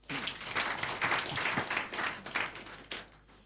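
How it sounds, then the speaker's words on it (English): A crowd claps at a Brekete Family radio programme, a short burst of scattered applause that swells and then thins out, fairly faint and a little distant. "Make we clap for him."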